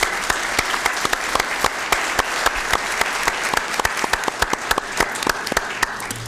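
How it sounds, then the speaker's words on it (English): A county Board of Supervisors meeting audience gives a round of applause for volunteers: steady, loud crowd clapping with distinct sharp claps throughout. "I think we all need a round of applause for that"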